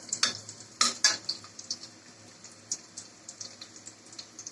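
Chicken with onion paste and spices frying lightly in a pan, with quiet sizzling under sharp scrapes and clinks of a spoon stirring against the metal.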